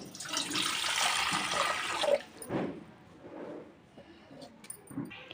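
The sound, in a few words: water being poured into a bowl on the stove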